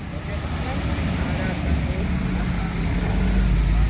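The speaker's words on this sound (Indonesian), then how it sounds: "Ini bus ALS" An ALS bus at a bus terminal produces a continuous low engine and road rumble that swells slightly toward the end, with voices underneath.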